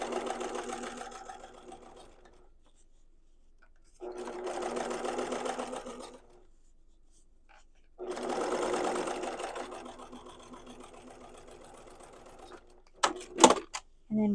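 A sewing machine top stitches a quilted tote bag over a foam layer, running in three close, steady bursts with quiet pauses between them, followed by a few sharp clicks at the end.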